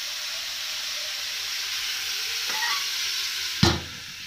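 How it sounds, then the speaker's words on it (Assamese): Duck curry meat frying in a pan as it is stirred, a steady broad sizzle throughout with a brief scrape of stirring and a sharper clatter of the spoon near the end. "বহুতখিনি ফ্ৰাই হ'ল, এতিয়া ঢাকি দিওঁ অলপ দেৰি আৰু ভালকৈ ফ্ৰাই হ'ব"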